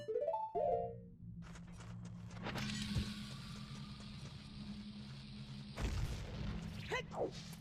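A single booming bomb blast goes off partway through, in the Ocarina of Time Randomizer video game, amid steady game ambience, with a few sharp effects at the start and end.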